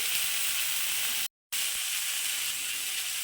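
Cut tomato pieces fry in hot oil in a pan for a rohu fish curry with green banana and potato, a loud, steady sizzling hiss broken by one brief gap.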